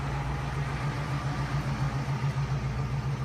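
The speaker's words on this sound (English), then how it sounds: "You hear her running. It's running really nice. Let's listen to the car." A 1948 Cadillac engine idles smoothly with a steady, even low throb, moderately close and without talk.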